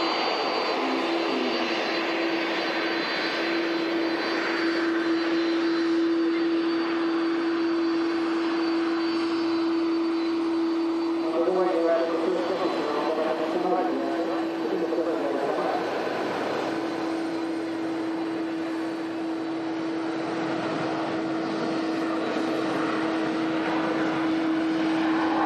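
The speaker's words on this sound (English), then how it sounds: "As the Lingus A330 taxis out for Bridgetown." An Aer Lingus Airbus A330 jet taxiing out at Manchester Airport for Bridgetown, its engines giving a steady, continuous whine and roar at moderate distance with a sustained tonal hum throughout.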